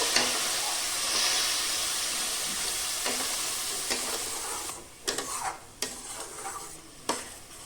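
Tomato paste sizzles and fries in hot oil while being stirred, a steady close hiss broken by several short scraping stirs toward the end, with no voices.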